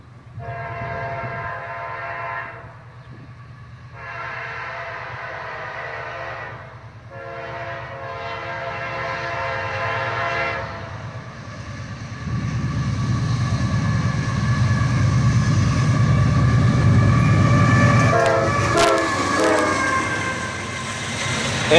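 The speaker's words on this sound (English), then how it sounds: "And a nice horn salute from the engineer." A CSX southbound manifest freight train led by a single GE AC44CW locomotive sounds several long, loud horn blasts as a salute, then the rumble and clatter of passing cars swells and continues.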